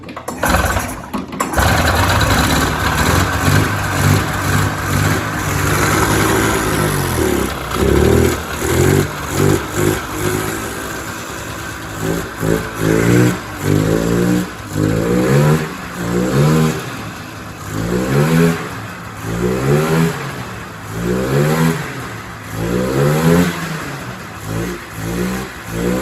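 Cheap used snowmobile engine, carburetor just bent into place and choked, sputtering to life and revving in repeated loud bursts with rising and falling pitch, close and alone.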